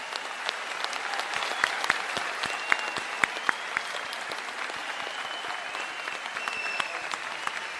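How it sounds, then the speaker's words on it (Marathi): An awards-ceremony audience at the Paani Foundation Water Cup 2018 stands and applauds loudly, a dense, sustained roar of many hands clapping with sharper individual claps rising above it, continuing without a break. "एकदा सगळ्यांनी उभं राहून जोरदार टाळ्या वाजवा"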